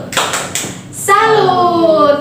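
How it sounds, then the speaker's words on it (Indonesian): A class does the tepuk salut clapping routine, giving three quick, sharp claps in a rhythmic pattern close by. A short crisp hit follows, then a voice begins talking over the end. "Ibu akan melakukan tepuk salut"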